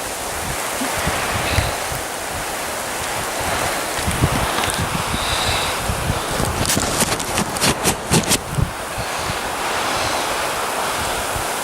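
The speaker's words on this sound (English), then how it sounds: "it's windy, it's blowing a gale, and it's absolutely belting it down." Strong wind roars and buffets the microphone amid a dense hiss of heavy rain on Moel Famau, with a cluster of sharp gusty bursts partway through.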